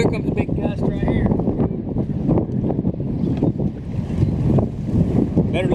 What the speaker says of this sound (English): here comes a big gust right here.